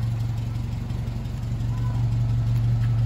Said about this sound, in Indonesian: mesinnya halus teman-teman